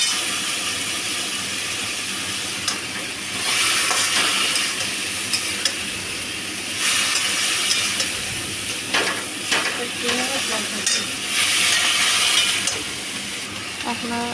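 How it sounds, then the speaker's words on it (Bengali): Bottle gourd stalks frying in a pan for a poppy-seed dish, a steady close sizzle with bursts of stirring and clinking through most of the stretch, with no talk. "ডাঁটা ভালো করে ভাজা হয়ে গেছে"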